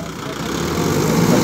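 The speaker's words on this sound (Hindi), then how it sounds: "इस ट्रैक्टर का डेमो ले रहे हैं" A Kubota MU 5502 tractor, a 50 HP Japanese-made model from 2024, runs steadily during a demo drive on a farm, its engine a continuous close rumble that grows slightly louder.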